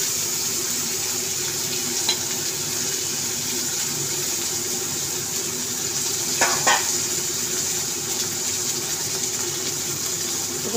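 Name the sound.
fish frying in a pan while being gently turned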